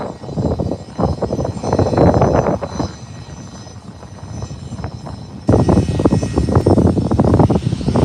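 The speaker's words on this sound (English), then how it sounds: "That might be my favorite private jet, the Gulfstreams." A Gulfstream private jet at Minneapolis–St. Paul airport gives off a loud, steady engine roar with rumbling swells, heard up close outdoors with no talking.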